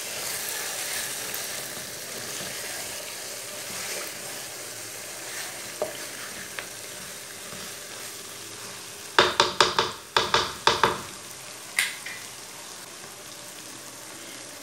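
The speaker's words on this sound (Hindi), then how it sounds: "पाँच मिनट तक मैंने चम्मच चलाते हुए भून लिया है चिकन को।" Chicken for Kashmiri chicken frying in a pan while a spoon stirs it: a steady low sizzle throughout, then a burst of sharp scraping and clattering stirs near the end, close and fairly loud, with no talking.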